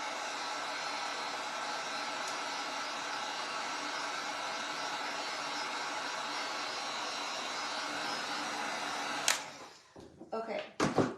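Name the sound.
hair dryer drying paint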